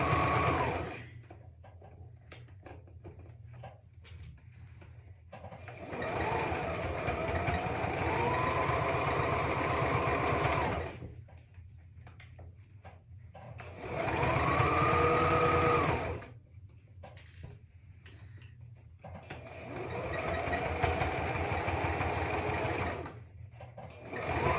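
A sewing machine stitches fabric for a child's hat in three separate runs of steady mechanical whirring, with quiet pauses between them where the stitching stops.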